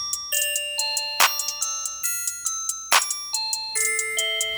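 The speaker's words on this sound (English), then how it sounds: "So now I can also start filtering like this bell sound." Bell sample played in FL Studio alongside an Ensoniq ASR-10: bright pitched bell tones ring out in a repeating melodic pattern, each note struck cleanly and decaying, with two sharper percussive hits layered in, no voices.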